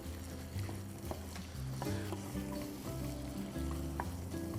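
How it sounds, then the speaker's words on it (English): Vegetables sautéing in a hot pan, a steady close sizzle with occasional scrapes and clinks of a utensil stirring them, continuous throughout with no talk. "I'm gonna just give that a saute"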